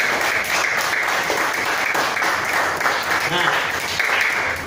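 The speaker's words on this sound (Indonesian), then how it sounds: "Kasih tepuk tangan dong" An audience claps in a sustained burst of applause at a Quran study motivation session at an Islamic junior school. The dense clapping stays steady for the whole stretch.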